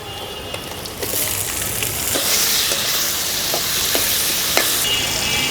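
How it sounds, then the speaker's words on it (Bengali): Chopped tomatoes hitting hot oil with garlic, ginger and onion in a village kitchen pan, a loud sustained sizzle and hiss with a few sharp crackles and stirring scrapes. "দিয়ে দিচ্ছি টমেটো কুচি"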